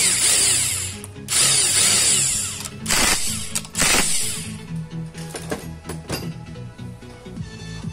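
A power driver tightens the small screws on the engine cover of an Italika FT 150 motorcycle during engine assembly, with several whirring bursts of the tool and ratcheting clicks between them, close and fairly loud.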